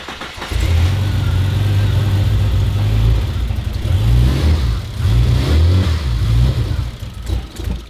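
A turbocharged Ford Fairlane engine running on a Haltech ECU fires up for the first time. It roars loud and close, holding a steady idle and then revving up and down in uneven surges.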